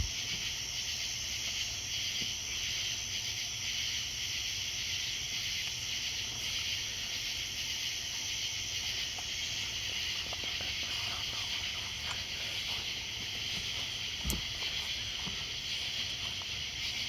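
Night chorus of Carolina ground crickets and common true katydids, a faint continuous high buzzing trill with steady background hiss and no pauses.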